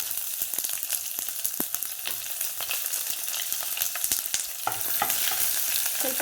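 One onion frying in a pan with byadagi chillies, a continuous close sizzle with quick scraping stirs and small crackles, growing slightly denser near the end, no talk.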